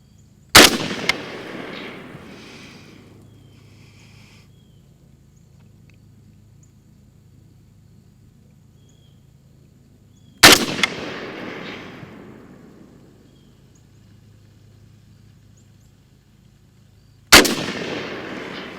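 Three sharp rifle shots from an SA58 firing M80 ball ammunition at a 300-yard range, spaced several seconds apart, each a loud crack followed by a long rolling echo that fades across open ground.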